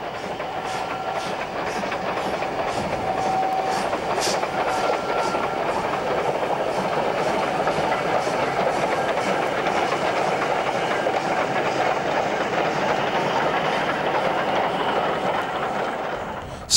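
A train on the North Yorkshire Moors Railway descends alongside Pickering Beck from Newtondale toward Levisham, a sustained steady rumble of rolling wheels with light rhythmic clatter, moderately loud and continuous.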